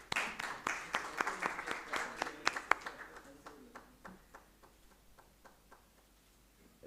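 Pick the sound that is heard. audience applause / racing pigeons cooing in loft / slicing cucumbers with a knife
audience applause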